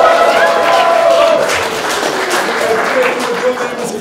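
An audience at rap battle tryouts applauds and cheers, a steady wash of clapping and whoops from a crowd, with a voice talking over it.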